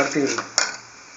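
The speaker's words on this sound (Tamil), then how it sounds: "அந்த பாசி பருப்பே அதில் போட்டு நம்ம லேசாக வறுத்துட்ருக்கோம்" Moong dal being lightly roasted in a pan for peerkangai thuvaiyal: a utensil clinks and scrapes against the metal, a couple of sharp knocks amid a short burst of stirring, close and clear.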